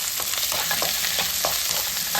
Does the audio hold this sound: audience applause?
no